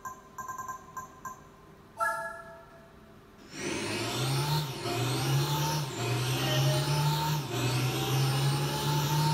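Futuristic Nike One 2022 car in a PS2 racing game: a short tonal menu chime first, then the engine starts and settles into a loud, steady drone with rising gear-like sweeps, close and continuous, no talk.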